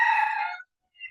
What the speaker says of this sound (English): my rooster's a little distracting